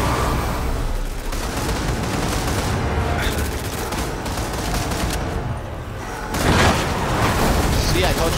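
Rapid automatic gunfire from a modded zombies shooter, a dense continuous stream of shots that speeds up as the weapon fires faster, loud and close, with players talking over it.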